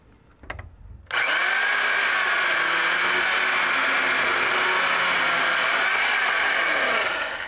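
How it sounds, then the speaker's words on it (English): Circular saw fitted with a beam cutter attachment slicing through a wooden beam: a short quieter start, then a loud, steady high-pitched whine with a strained grinding edge, held continuously close up. "It turns any saw into a beam cutting machine."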